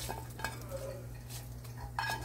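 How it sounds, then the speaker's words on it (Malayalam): Ven Pongal with fried nuts stirred in a pan over a low flame, soft scraping and occasional spoon clinks against metal, faint and steady with no talking. "പൊങ്കൽ നമുക്കൊന്ന് നന്നായിട്ട് മിക്സ് ചെയ്തെടുക്കണം"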